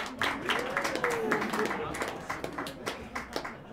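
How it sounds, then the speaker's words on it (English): An audience at a live dark-comedy club show claps and applauds in a sustained, scattered patter of hands, with a voice briefly rising over the middle of it. "Psychonauts, give me a round of applause if you've done any psychedelics."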